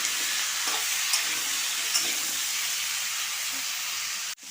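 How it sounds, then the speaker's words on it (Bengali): Kohlrabi and potato pieces with salt and turmeric sizzle steadily in hot oil, with faint scrapes of stirring and a soft, even frying hiss throughout. "ভালো করে নাড়িয়ে নিচ্ছি নাড়িয়ে ভেজে নিচ্ছি"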